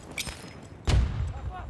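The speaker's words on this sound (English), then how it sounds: "Tossing grenade." A grenade blast in the video game Battlefield, a sudden heavy low boom about halfway through that decays into rumble, preceded by lighter scattered gunfire and game sounds.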